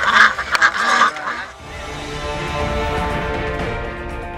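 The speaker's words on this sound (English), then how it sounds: "they have introduced ducks which eat the pests in the farm" Ducks kept for pest control quack at a vineyard at a winery, with a burst of loud, clustered quacks at the start, then steadier, fainter outdoor noise.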